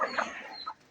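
Native chicken clucking softly at close range, a few brief low clucks within about a second, fairly faint with no talk.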